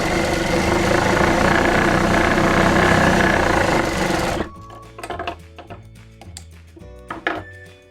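A sewing machine stitches the piping on a katori blouse, a loud, steady mechanical whir for about four seconds, then it stops and only quieter scattered clicks and handling sounds remain.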